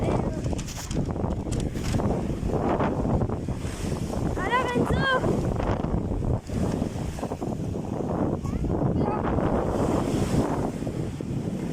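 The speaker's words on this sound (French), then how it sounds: "Il y a un vent de malade." Strong wind at the seaside buffeting the microphone in a continuous loud rumble, with waves in the background and brief voices audible under the gusts.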